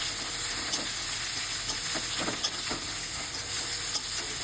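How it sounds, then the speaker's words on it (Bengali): Chopped onion frying in mustard oil gives a steady sizzle while a spoon stirs it, adding light scrapes and occasional small clicks throughout. "পেঁয়াজটা একটু নাড়াচাড়া করে নেব।"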